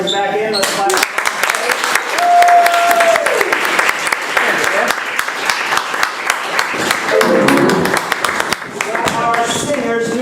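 Audience applause at a live comedy improv show: steady clapping from a crowd fills the room for several seconds, with voices and a brief sung or held vocal tone rising over it.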